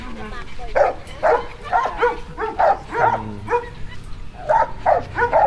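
Dogs at a large kennel farm in Bulacan bark and yip in short, repeated bursts, close and fairly loud, with a person talking among them.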